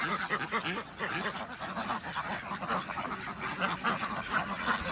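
Ducks quack repeatedly in an overlapping, busy chorus on a duck farm, moderately close, with faint background noise.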